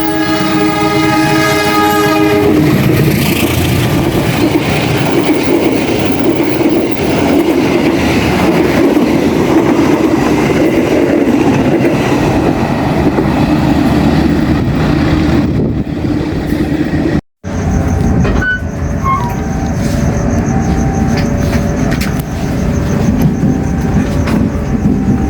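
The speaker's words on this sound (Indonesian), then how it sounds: "Kereta api Kahuripan." A Kahuripan passenger train passes close by, its horn sounding in long steady blasts at the start, then the heavy rumble of passing railcars going on loud and continuous, with clattering wheels after a brief break.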